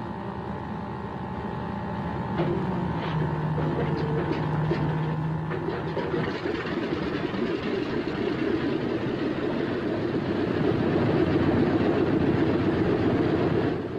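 A B-26 Marauder aircraft piston engine starts and runs, a loud, steady, rumbling drone that continues unbroken and holds close throughout, with no talking.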